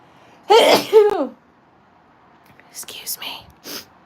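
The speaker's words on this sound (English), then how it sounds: "Oh, I'm gonna sneeze." A single sharp sneeze bursts out near the start right after a breathy intake, close to the microphone; later, quiet fragmentary sounds and soft voice follow after a pause.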